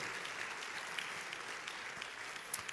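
Congregation applause during a church sermon, a soft, even wash of many people clapping, fairly distant and steady throughout, with no voices rising above it.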